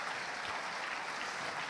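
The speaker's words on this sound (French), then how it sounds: "Ouais, vous pouvez applaudir," Conference audience applause in a large congress hall at a developer keynote, a dense uniform roar of many hands clapping, steady and somewhat distant for the whole short stretch.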